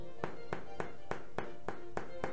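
Knuckles knock on the underside of a freshly baked homemade bread loaf, eight hollow, evenly spaced taps, close and distinct.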